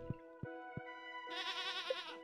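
A goat in Stardew Valley gives a loud, wavering bleat that starts about midway and holds to the end. Three soft knocks come before it, and no one talks.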